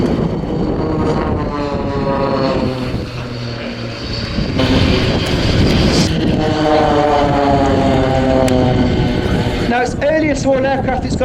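A small propeller aircraft with about a 24-foot wingspan flies at the RAF Leuchars airshow in 2013, its engine a loud, sustained droning buzz that rises and shifts in pitch as it passes, with a voice talking over it.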